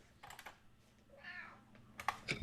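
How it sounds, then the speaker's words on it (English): A cat gives a single soft, drawn-out meow amid light keyboard typing and clicks nearby. "I know, I heard meow."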